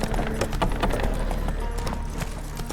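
Hooves of Geralt's horse Roach from The Witcher 3: Wild Hunt beat a quick, steady clip-clop at a trot or canter, close and continuous over a low rumble of game ambience.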